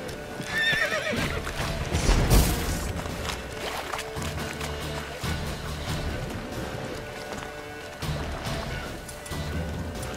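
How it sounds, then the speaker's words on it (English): A horse in The Witcher 3 gives a loud, close whinny near the start, followed by a rhythmic clip-clop of hooves that runs on in bursts with brief gaps. "Whoa there, Roach"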